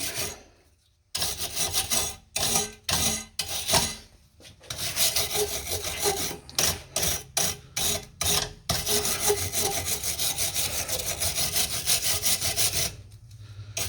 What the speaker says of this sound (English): You want to clean all that off. Scrub it all down.